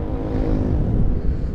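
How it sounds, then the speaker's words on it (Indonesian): Yamaha Mio M3 scooter with an upgraded CVT, its engine roaring loudly and steadily at close range, a low droning growl with no talk over it. "Ini raungannya mesin lebih ini sih"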